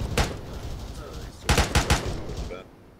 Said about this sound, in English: M240, machine gun.